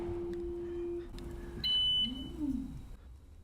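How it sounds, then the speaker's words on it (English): An Elegoo Saturn 3 Ultra resin 3D printer gives a single short, high electronic beep, fairly faint, against a quiet low hum and light mechanical noise. "And there is a little beep"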